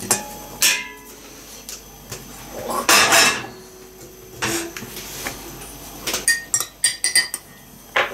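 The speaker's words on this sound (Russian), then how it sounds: "засунуть чашку, только без ложки, вот этот самый, в микроволновку" A cup of linden tea clinks and knocks against the dish as it goes into a microwave, with a scattered run of sharp clinks, taps and a door thump in a quiet kitchen.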